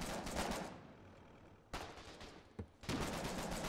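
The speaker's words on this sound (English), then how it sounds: "Why are we getting shot from our own people?" Bursts of gunfire in the war game Foxhole crackle in loud dense volleys, broken by a short lull and a sharp single crack before another heavy burst resumes.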